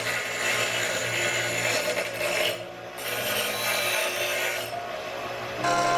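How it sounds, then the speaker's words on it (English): A steady, slow grinding and rasping against a homemade replacement part for an antique fan, continuous and close, with a brief dip midway before resuming. "Just grind slowly."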